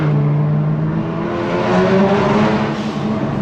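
A tuned Kia Stinger engine revs loudly and steadily up close, its deep growl rising and falling in pitch over a few seconds with no voices.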